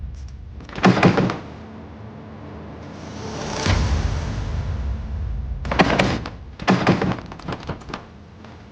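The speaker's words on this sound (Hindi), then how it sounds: "मलिका, शायद किसी ने दरवाजा बंद कर दिया है।" A door being shut inside a palace, heard as two loud thuds and slams, one early and a cluster near the end, with a drawn-out creak or rumble between them.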